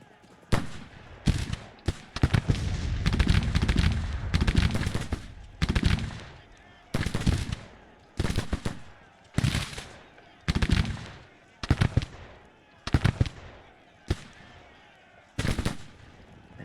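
Civil War musket volleys in the strategy game Grand Tactician: repeated crackling bursts of massed gunfire, loud and close, coming in irregular rolling salvos separated by short gaps.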